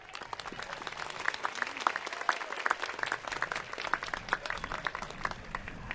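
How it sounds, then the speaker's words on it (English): Commencement ceremony audience applauds scholarship donors, a dense, lively patter of many hands clapping at once from a large crowd, continuing evenly throughout with no speech on top. "Please join me in a round of applause to thank these donors."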